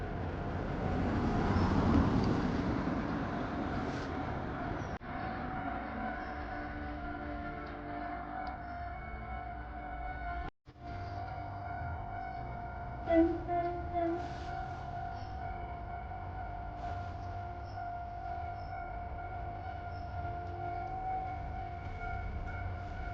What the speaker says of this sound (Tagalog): I think the train is passing.